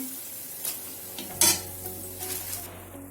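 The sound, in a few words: dahi vada lentil dumplings frying in oil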